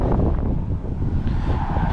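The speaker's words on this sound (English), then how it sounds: "there's a big dust storm with the winds coming through" Strong dust-storm wind buffeting the microphone, a loud, continuous low roar with slight gusting swells over two seconds, no voices.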